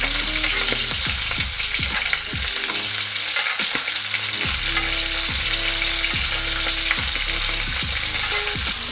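Steak searing loudly in a hot pan while being basted, a dense steady sizzle close up with repeated scraping and spooning strokes at a regular pace, no voices.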